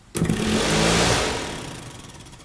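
A Mercedes SLK200 ventilation fan motor spins up abruptly after a nudge into a loud, close whirring roar. It holds for about a second, then gradually winds down and fades.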